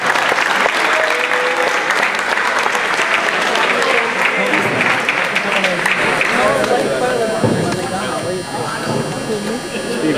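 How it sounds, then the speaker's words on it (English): Sustained crowd applause at a 2014 high school senior night ceremony honoring a player named Isaiah, filling the room steadily and tapering slightly near the end, with a faint electrical hum underneath. "So clap it up for Isaiah."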